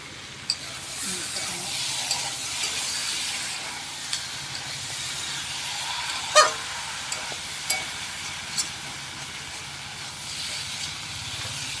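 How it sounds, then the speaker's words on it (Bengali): Meat for kosha sizzles and hisses steadily in a hot pan, with occasional sharp clinks and scrapes of a utensil against the pan over the continuous frying. "মাংসটা কষা হবে মাংসের মধ্যে একটু ঢাকা দিয়ে দেবো"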